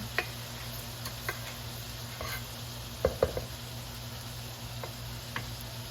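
Rice being stirred as it fries in oil in a pan for Mexican rice: a soft continuous sizzle with a few faint, scattered scrapes and ticks, quiet and close, with no talking.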